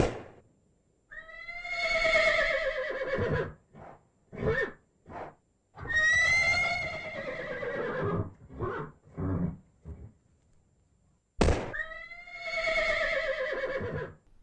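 Several loud horse whinnies, shrill and quavering, separated by short snorts and quiet pauses, close to the listener with no one talking.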